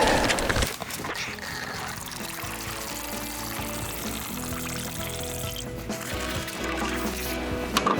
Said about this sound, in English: So I'll start with the hydrogen peroxide.